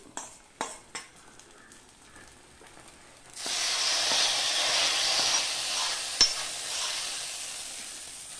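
Hot tempering is poured into a dish of tapioca (cassava) aviyal, starting with a few soft kitchen clicks before a loud, steady sizzle bursts up and hisses on for several seconds, close by.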